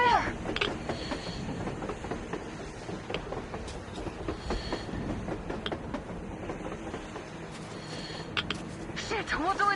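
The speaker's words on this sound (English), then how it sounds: "A train! A damn train on the surface!" A train passes in the post-apocalyptic video game Metro, a steady rolling rumble with rhythmic clacking and occasional metallic squeals, heard under game voices and action sounds.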